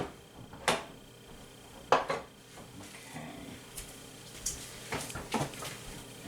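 A kitchen knife chops about half a stick of butter on a board with a handful of sharp, close taps at irregular intervals and soft scraping between them. No voices are heard.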